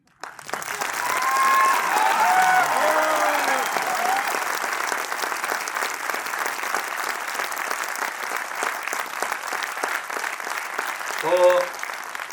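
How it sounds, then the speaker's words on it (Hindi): An indoor audience at a distributor training session claps in a Gujarati style, a dense burst of applause that starts abruptly and holds for about ten seconds before tapering, with a short vocal sound near the end. "ये तो हो गया दिल वाली ताली। अब एक गुजरात वाली बजाओ।"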